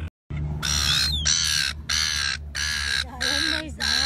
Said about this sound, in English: The birds? They're all behind you, Carmen.